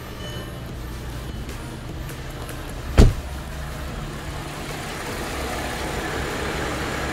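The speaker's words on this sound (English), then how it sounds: "We got the car started." A car engine idling steadily in a garage after being started for a carbon cleaning service, a low continuous hum with a single brief click partway through.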